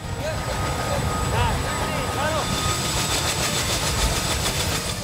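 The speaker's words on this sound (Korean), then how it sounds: "헬기를 향해 걸어갈수록 강력한 프로펠러 소리에 서로의 목소리도 듣기 힘들어졌습니다" A military helicopter's rotors beat as special forces trainees walk toward it, producing a loud, steady, close roar of rotor and engine noise that lasts the whole clip, with voices faintly audible beneath it.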